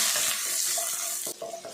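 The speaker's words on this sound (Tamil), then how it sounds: "கொஞ்சமாக கருவேப்பிலை எல்லாத்தையும் சேர்த்துட்டு நல்லா வதக்கிடலாம்" Onions with curry leaves hiss and sizzle steadily in a hot frying pan, close up, with brief scraping taps of stirring.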